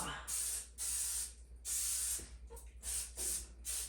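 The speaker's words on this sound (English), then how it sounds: "With some coconut oil pan spray, right?" Coconut oil cooking spray hisses onto a pan in several short bursts of uneven length, with brief pauses between them, close and fairly loud.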